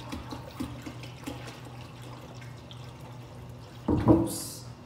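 Water is poured onto mung bean sprouts growing in a bottle, with soft drips and trickles early on, then a louder splash and gurgle near the end.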